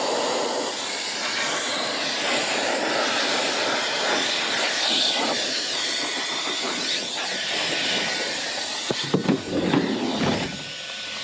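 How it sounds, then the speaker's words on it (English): A high-speed cordless air duster on a DeWalt 20V battery blows dust out of cracks inside a van. It gives a loud, steady roaring whoosh that lasts throughout, with a few faint knocks near the end. "So in my van, a lot of times I'll get dirt and dust down in these cracks. And what I like to do is blow it out."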